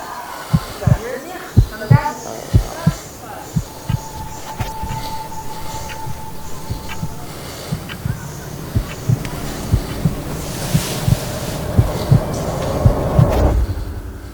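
Slow, regular heartbeat thumps, each a soft double pulse, over a low droning hum and swelling tension tones, with no voices.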